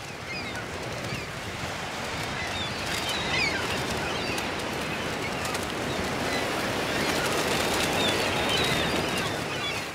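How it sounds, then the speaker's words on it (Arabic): Seagulls feeding on crustaceans washed up on a beach in southern Dhofar, Oman, in stormy weather: a dense, steady wash of surf and wind with faint scattered high gull cries above it, no talk. "وليمة لنوارس البحر."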